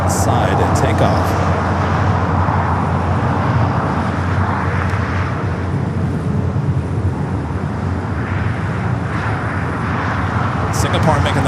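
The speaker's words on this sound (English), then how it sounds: "Doing that Avianca Cargo green livery. A330-300 popping up for a south side takeoff." An Avianca Cargo Airbus A330-300 in green livery takes off from the south side at LAX, a steady, loud, broad jet roar that holds throughout under a talking voice.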